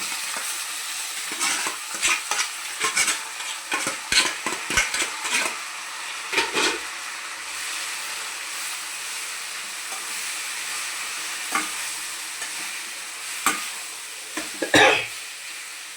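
Boiled amaranth greens sizzle in hot oil tempering as a spoon scrapes and stirs the pan in irregular bursts, with a sharp clatter near the end.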